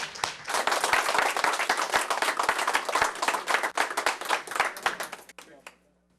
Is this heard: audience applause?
yes